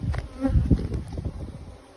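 Honey bees buzz steadily and close at an apiary hive, a dense continuous hum with no talking.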